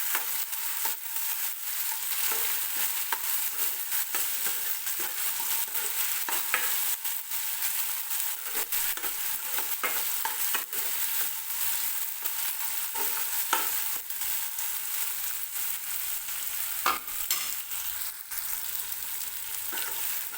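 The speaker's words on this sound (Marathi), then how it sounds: "टोमॅटोसुद्धा सॉफ्ट होईपर्यंत तेलामध्ये भाजून घ्यायचं आहे" Finely chopped tomato and onion frying in oil for a cauliflower and pea curry, a loud steady hiss of sizzling with frequent stirring scrapes throughout, close up and with no voices.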